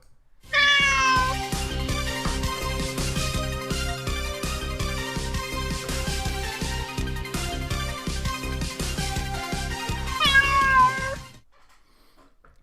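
Cats meow repeatedly over a bouncy, steady-beat music track for a cat game show, the meows loud and continuous for about eleven seconds before everything cuts off.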